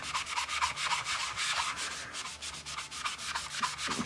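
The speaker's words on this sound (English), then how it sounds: "you have to be really careful about how hard and how long you scrub in one area, because magic eraser it's like sandpaper" A magic eraser scrubbing the playfield of a 1976 Bally Flip Flop pinball machine, steady close rubbing strokes in a quick, even back-and-forth rhythm with no talk.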